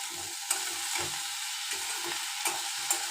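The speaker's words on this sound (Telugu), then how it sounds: "బెండకాయ ఫ్రై చేస్తున్నాను" Okra (ladies' finger) frying in a home kitchen pan, a steady soft sizzle with repeated scraping stirs and a few light clinks, heard close and alone without any talk.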